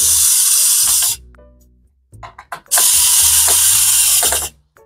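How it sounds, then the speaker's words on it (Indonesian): A screwdriver tightens screws on a PC build with a Montech X5M case and a Hyperflow Digital 240 cooler, giving two loud close bursts of ratcheting clicks separated by a short pause. "baru dikencangin nih pakai obeng"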